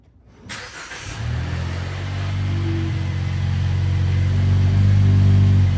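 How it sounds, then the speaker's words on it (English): A Jeep engine cranks briefly and catches, then settles into a steady, loud idle that builds slightly in level, with no talking over it. "I'm gonna start the Jeep up and see if it works"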